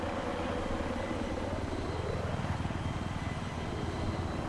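Attack helicopter in Battlefield 3 on Wake Island, a steady loud rotor thump and engine drone filling the whole stretch with a rising whine partway through, close and continuous.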